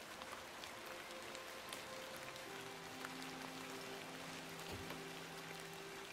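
Steady rain falling in the video game The Excavation of Hob's Barrow, a constant soft patter with a low droning tone underneath and no voices.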